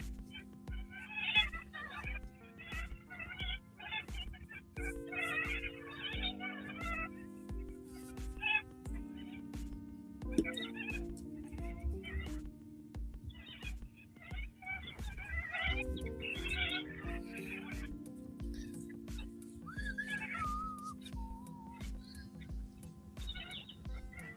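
Australian wild birds and parrots calling in a busy chorus of repeated chirps, squawks and whistles, with a steady lower hooting call running beneath them.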